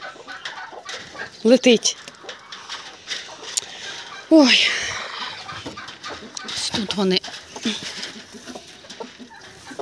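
Hens cluck in bursts around a farmyard where turkey hens sit brooding on eggs, with goslings and ducklings hatching nearby. The clucking comes close and moderately loud, interleaved with someone talking throughout.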